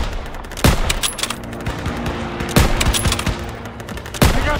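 Gunfire in the World War II shooter Call of Duty WWII: three loud, sharp shots ring out about two seconds apart over a steady rumble of battle ambience.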